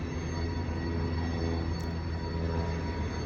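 A train passes close to a Saint Paul apartment as a dense, steady rumble and rolling clatter of wagons, loud and continuous, with no voices.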